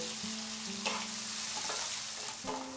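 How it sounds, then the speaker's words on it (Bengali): Two medium chopped onions fry over medium heat in a pan, giving a steady close sizzle throughout with a few soft scraping stirs and no talking. "পেঁয়াজটাকে খুব ভালো করে মাঝারি আঁচে আমরা ফ্রাই করে নেব।"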